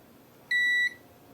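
A single short multimeter continuity beep during a Nintendo Switch repair: a clean, steady electronic tone lasting under half a second against quiet background hiss, no talk.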